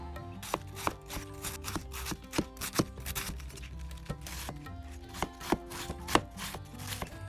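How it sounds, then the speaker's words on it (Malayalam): Cabbage being chopped on a board, a quick uneven run of crisp knife strikes, close and clear with no voices, the blows coming in short bursts. "ഇനിയും ഇത് അരിഞ്ഞെടുക്കുകയാണ്."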